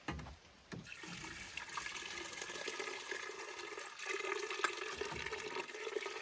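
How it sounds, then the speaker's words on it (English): Water pours steadily into a pot, a continuous splashing rush that runs throughout, with a brief knock near the start. "going to fill it up with water"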